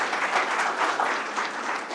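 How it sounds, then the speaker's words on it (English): A seminar audience at a cybersecurity talk claps briefly in a dense, steady burst of applause, with no speech over it. "Let's give a big round of applause."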